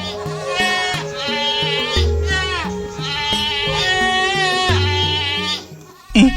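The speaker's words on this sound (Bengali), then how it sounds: "ছাগল ডাকছে না?" Two goats carried off from a farm in an animated story bleat loudly and repeatedly, their wavering cries layered over steady background music.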